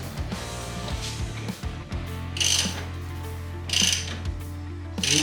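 A hand reamer is worked through a hole in a Shovelhead motorcycle engine part, giving repeated ratcheting clicks and metallic scraping in uneven strokes, with sharper grinding bursts close up.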